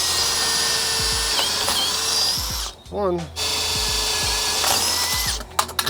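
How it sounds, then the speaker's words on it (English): A power drill boring out holes in a security door gives a loud, high whine in sustained bursts, with a short break in the middle where a voice briefly speaks. "So we're gonna drill those out."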